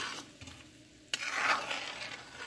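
Crushed pimento seed goes into a pot for Jamaican seasoned rice, with a sudden scrape and sizzle as it lands, then a steady bright frying hiss, close and fairly loud, with no talk.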